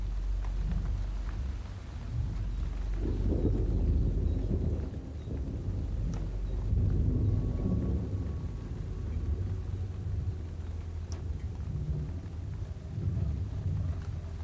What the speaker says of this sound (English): Rain streams from the drip tips of the leaves.